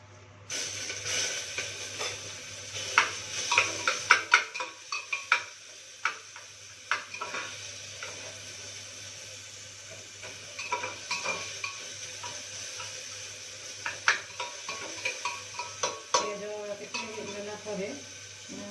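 Onions frying in a pan and being stirred, with scraping and clinking of a utensil against the pan over a steady sizzle; a voice talks intermittently.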